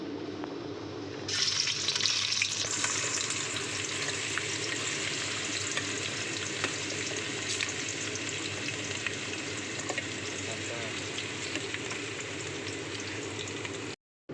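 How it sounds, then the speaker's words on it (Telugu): Onions frying in a pan for an Apollo fish curry, a loud continuous sizzle and crackle that starts abruptly and holds steady, close up and with no talking. "ఫస్ట్ ఆనియన్స్ వేసుకోవాలి"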